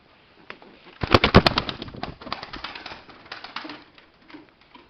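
Turkish tumbler pigeons coo in a loft, a soft burst of throaty calls close by with faint wing flutters, then quieter murmuring.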